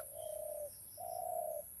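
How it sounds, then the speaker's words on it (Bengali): A spotted dove coos twice in rural Bangladesh, two smooth sustained low notes separated by a short pause, clear against a faint steady outdoor background. "ঘুঘু পাখি ডাকছে।"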